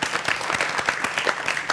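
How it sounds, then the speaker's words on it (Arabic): Brief, lively applause from a studio audience on a children's quiz show, with distinct individual claps close by and no speech. "هكا صفقوا عليها"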